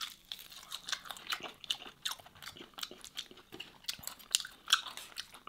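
Close, crisp crunching and biting as crispy lamb skin from a whole-lamb kabsa is chewed, with irregular sharp bites over a quiet background.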